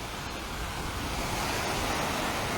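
Ocean waves break on the beach at Hilton and Drill Hall Beach at daybreak, giving a steady, loud wash of surf that fills the whole stretch without a pause or any voices.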